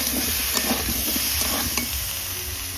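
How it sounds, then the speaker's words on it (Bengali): Cut pumpkin, potato and green chili tipped into a hot pan for a Sundarbans crab curry, giving a steady close sizzle with a few soft stirring knocks, no talking. "এই যে ধোয়া কাটা বাছা কুমড়োর আলু আর এর মধ্যে কাঁচা লঙ্কা দেওয়া রয়েছে দিয়ে দিচ্ছি"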